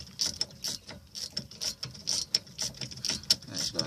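A hand ratchet clicks rapidly and continuously up close as it tightens the front brake caliper bolts on a 2011 Dodge Durango, a steady metallic pawl chatter with no talking.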